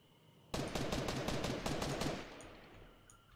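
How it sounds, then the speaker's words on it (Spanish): Rapid automatic gunfire in a shooter video game, a sudden close burst of about a dozen sharp shots lasting under two seconds, then fading into quieter distant echoes. "Vale, están disparándose entre ellos"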